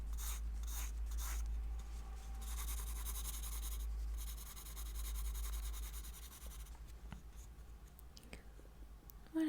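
Pencil sketching on paper, soft close-up scratching and rubbing strokes in steady bursts, some longer shading passes, quiet and intimate with no talk.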